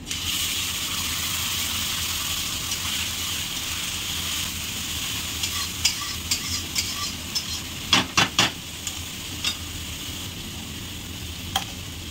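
Spices hitting a pan of lightly browned chopped onion for a fish curry with tengra, prawns and potato, giving a steady close sizzle with scattered sharp crackles and pops near the end.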